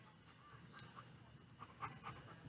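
A dog pants quietly at a campsite, with soft, rapid breaths faint against a low background hiss.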